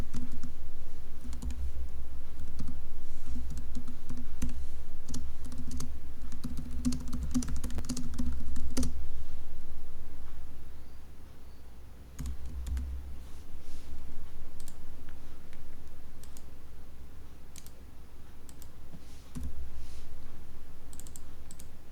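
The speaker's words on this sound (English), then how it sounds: "I'm gonna just type the prompt back in" Steady computer keyboard typing as a prompt is entered, continuous clicking keystrokes with brief pauses, close and alone over a low background hum.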